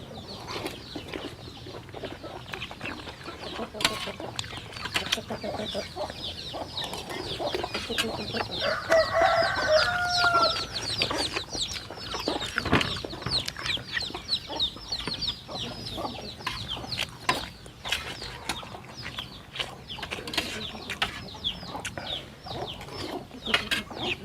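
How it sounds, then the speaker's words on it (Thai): Chickens cluck close by, scattered and intermittent, at moderate volume over a light outdoor background, with an occasional louder call. "ไก่ตอดมือเฮ้ย"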